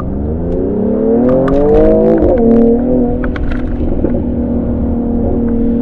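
A car brakes hard, then launches from standstill in first gear. The engine revs up loud and near, breaks at a gear change and settles into a steady drone, with a few crackles on top.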